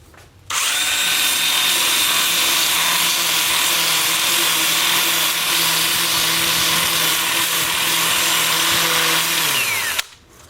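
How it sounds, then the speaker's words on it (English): Power sanding with a 2-inch disc against a wooden bowl spinning on a lathe, a loud continuous high whine and rasp held for about nine seconds, starting and stopping abruptly, no talk. "I'm going to switch to my 2-inch sanding disc and I'll just sand this part and this part as it's spinning"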